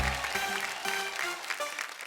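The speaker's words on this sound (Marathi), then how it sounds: "एकदा जोरदार टाळ्या होऊन जाऊ देत." Studio audience on a Marathi television show clapping loudly and steadily for about two seconds, a dense wash of applause with no talking over it.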